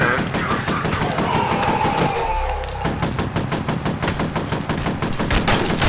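Gunfire in the horror shooter game F.E.A.R., dense rapid automatic bursts close and loud with a brief pause midway, over continuous game sound.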